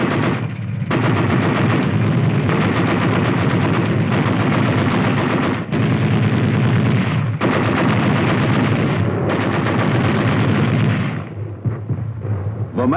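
Dense, loud gunfire during a night tank attack with a mechanized rifle platoon, continuous bursts and heavy reports overlapping for the whole stretch with only brief breaks.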